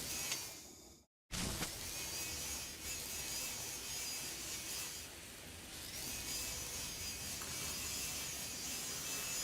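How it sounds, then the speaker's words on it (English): A welding tool in the Elite Dangerous game grinds and cuts through a maintenance panel, a steady rasping mechanical buzz that runs almost without pause after a brief cut-out near the start. "Use our intergalactic space Dremel."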